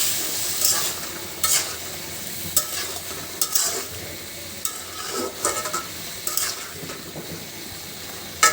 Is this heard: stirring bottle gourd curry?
yes